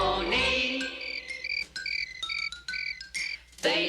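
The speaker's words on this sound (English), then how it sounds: "Listen to the crickets chirping their symphony." Crickets chirp in short, bright, repeated bursts at an uneven rhythm, fairly close and clear with no voices.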